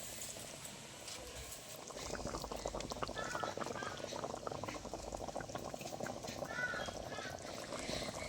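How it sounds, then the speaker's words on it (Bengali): Sarpunti fish curry with tomato and dried chili boiling in a pan, a steady dense bubbling and popping simmer that grows slightly louder after the first two seconds and continues without pause, with no talking. "এবার মাছগুলোর সাথে একবার ঝোলটা একটু ফুটিয়ে নেবো"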